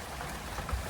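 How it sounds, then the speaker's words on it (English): Steady outdoor rain hissing on surfaces in a raspberry garden, a dense even wash with no other sounds standing out. "now it is actually raining heavier."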